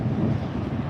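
Outdoor wind buffets a microphone at a Fort Lauderdale planespotting spot, a loud steady low rumble and roar of gusts with no speech.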